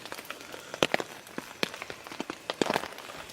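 Rain at a campsite falls as scattered, irregular taps and drips on a nearby surface, crisp and close but fairly quiet, with no talking.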